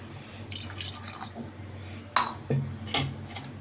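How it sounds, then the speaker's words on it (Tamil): Two glasses of water pour and splash into a metal pot of mutton curry in a few short bursts, with faint clinks and drips over a steady background hum. "நான் ஒரு 2 கிளாஸ் தண்ணி சேர்த்துக்கிறேன்."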